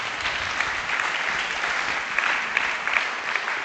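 A church congregation applauds steadily throughout, a dense wash of clapping at even loudness with a few sharper claps standing out, no voices on top.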